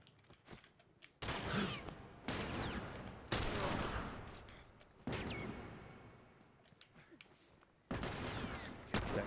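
Rapid bursts of gunfire in The Last of Us, loud close volleys that start abruptly and trail off, repeating several times with short gaps between them.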